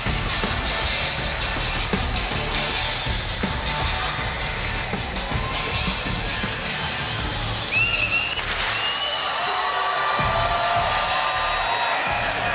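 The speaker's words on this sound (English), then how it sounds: "You hear the crowd. They've been cheering on our EU all day" A large arena crowd at an esports final cheers steadily, a dense wash of roaring voices and whoops sustained from start to finish, loud and close, with a whistle-like cry briefly rising above.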